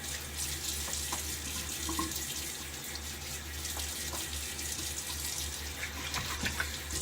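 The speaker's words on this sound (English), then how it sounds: "Real quick rinse." Tap water runs steadily into a sink while a used razor blade in a Gillette Nacet safety razor is rinsed, a continuous close splashing hiss with small clinks, no talk.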